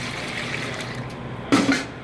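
Distilled water is poured into a container to make a sodium alginate bath, a steady, close liquid stream that ends in a brief louder splash near the finish.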